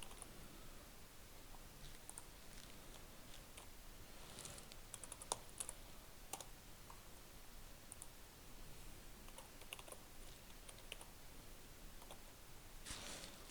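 Typing an email address on a computer keyboard: quiet, irregular key clicks tapping away steadily throughout, faint and close, with no voices.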